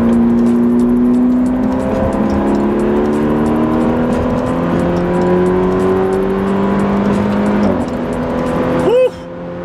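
A car with a Bootmod3 Stage 2 tune pulls hard in fourth gear from about 50 mph, its engine tone rising steadily and loudly from inside the cabin before easing off abruptly near the end.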